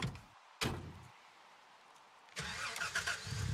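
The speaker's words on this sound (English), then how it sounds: "My truck noise is cutting in and out." Truck engine in the Gold Rush video game, cutting in and out: a short burst, silence, then a steady engine drone returning after a gap, fairly faint.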